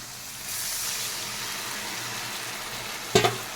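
Spice paste sizzling in a hot pan, a soft steady hiss that swells after the first half-second, then a sharp clatter near the end.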